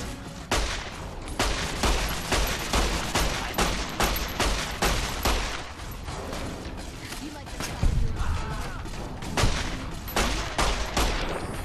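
A 9mm pistol fires rapid repeated shots in Fallout: New Vegas, sharp loud cracks in quick bursts with brief pauses and mechanical clicks between volleys, alongside game sounds.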